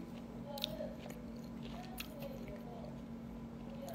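Eating and chewing food during a Korean livestream, with soft bites and squishy mastication sounds close to the mic over a steady low hum, no talking.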